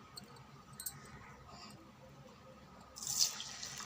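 Basmati rice washed by hand in water for biryani, with quiet swishing and rubbing of grains that builds into a louder splash of running water near the end, heard close and alone.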